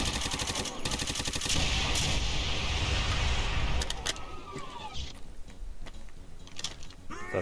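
AK rifle fire in a Doom II mod, rapid automatic bursts that are loud at first and then thin out into scattered shots and clicks under a background game soundscape.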